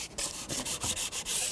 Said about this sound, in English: Just keep sanding all the way around till you get a nice smooth surface